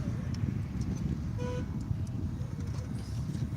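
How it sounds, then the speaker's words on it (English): A car horn sounds from down the road on a Fresno, California street, faint short toots under steady road and traffic noise, with a brief clearer honk partway through. "Who keeps freaking honking?"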